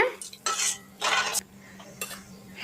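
A spoon scrapes and clatters against a pan of coconut milk mixture in several short bursts, stirring with brief pauses between strokes, close and fairly loud.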